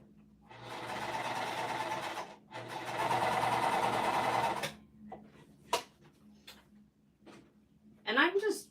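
Sewing machine stitching fabric strips together for a pouch, two sustained close runs of rapid needle chatter separated by a short pause, followed by quieter clicks and handling noises, with a person talking at times.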